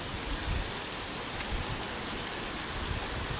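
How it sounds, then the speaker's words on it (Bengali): Rain falling on a tin roof, a dense continuous hiss of drops drumming on metal, steady and enveloping without pause and with no voices. "এমন বৃষ্টি আসতেছে"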